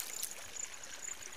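River water flows in an even, steady rush near a field being sprayed against pests, a faint, continuous outdoor wash with no talking.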